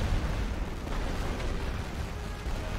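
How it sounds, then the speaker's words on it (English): Massed rifle fire in The Great War: Western Front, a dense and continuous crackle of overlapping shots and distant booms with no clear gaps, loud throughout. "We've got rifle fire taking them on."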